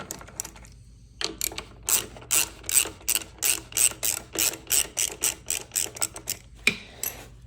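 A ratchet wrench loosens bolts on a Honda GCV 160 lawn mower engine, a close run of rhythmic clicking bursts repeating steadily, about a dozen strokes in a row.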